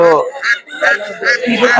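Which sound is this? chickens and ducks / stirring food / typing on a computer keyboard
chickens and ducks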